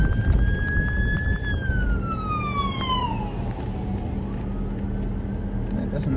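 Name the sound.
police car sirens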